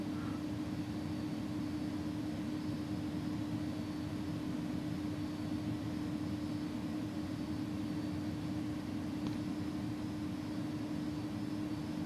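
Airbus A300 airliner engines drone steadily in cruise within a flight simulator, a constant even hum with a low steady tone that never changes across the stretch, moderately quiet and uninterrupted, with no talking.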